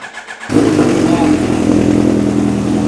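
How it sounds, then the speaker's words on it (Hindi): After a brief quiet moment, a motorcycle engine fires up at once from a cold start and settles into a steady, loud, close idle rumble. "एक झटके में बाइक ऑन हो गई।"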